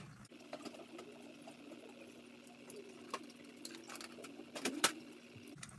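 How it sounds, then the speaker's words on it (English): A Dremel rotary tool whines at a steady high pitch, faint and fairly close, with small clicks and a brief louder handling noise near the end. "now it is Dremel time."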